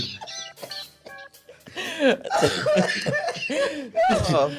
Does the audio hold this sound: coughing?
yes